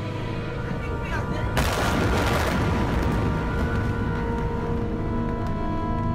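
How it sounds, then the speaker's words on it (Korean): A second explosion at a chemical storage warehouse holding about 700 tonnes of sodium cyanide erupts with a sudden loud boom, followed by a sustained roaring, crackling rumble of fire and debris that fills the scene. "검붉은 불기둥과 함께 두 번째 폭발이 일어났다."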